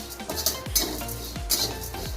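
Flattened rice (poha) dry-roasts in a pan, stirred with a utensil that scrapes and clinks against the metal in a few quick strokes, the grains rustling faintly between the knocks.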